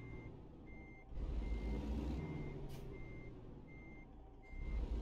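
Steady electronic reversing beeps from a heavy truck backing up to its trailer in American Truck Simulator, evenly spaced pulses over a low diesel engine rumble that swells louder partway through.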